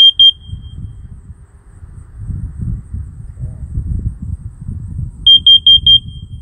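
Two alarm units, a smoke detector and a carbon monoxide detector, sounding in full alarm: sharp, loud high beeps at the start and a rapid run of about four beeps near the end, with rustling and low rumble filling the gap between.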